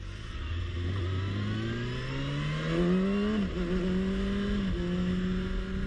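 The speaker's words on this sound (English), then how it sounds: "The motorcycle sounds really good" A 2023 Kawasaki Ninja ZX6R 636 sport bike pulls hard with the engine note climbing steadily, then drops and rises again through quick-shifted gear changes, loud and close on an open road away from town.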